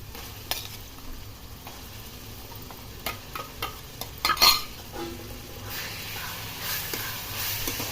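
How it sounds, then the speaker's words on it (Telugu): Onion paste fries in a pan for a bocchu fish tamarind curry, giving a soft, low sizzle broken by spoon clinks and stirring scrapes, with the hiss swelling toward the end. "పచ్చివాసన పోయే వరకు బాగా వేపుకోవాలండి"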